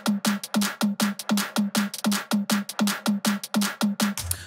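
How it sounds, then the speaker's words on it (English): A straight drum loop layered with a Sigmund delay plugin on its 'Horse' preset gives rapid, evenly spaced punchy hits with bright smeared tails, driving steadily for several seconds before a low tone takes over at the end. "it just takes a really simple kind of straight drum loop"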